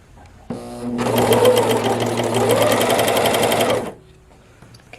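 A Brother 925D lock serger chains off thread, running a steady, loud mechanical whir at close range for about three seconds before stopping, with no talk over it.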